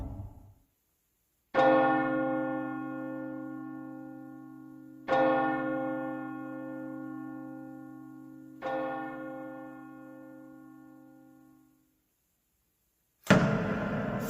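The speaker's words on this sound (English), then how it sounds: "Three bells, 3 a.m." A deep church bell tolls three times, slow and evenly spaced, each stroke ringing out and fading before the next.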